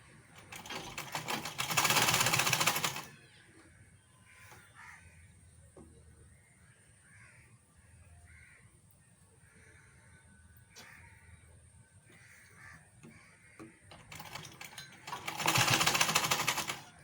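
A sewing machine stitches a 1.5-inch fabric strip in two loud, rapid mechanical bursts of about three seconds each, at the start and end, with quiet handling of fabric and faint ambient noise between.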